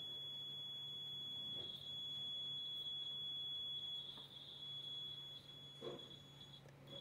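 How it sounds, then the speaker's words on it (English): The buzzer of a homemade steady-hand wire game sounds as a thin, steady high-pitched electronic tone that runs continuously and fairly quietly, with a faint hum and small knocks underneath. "as soon as I touch, the buzzer will ring."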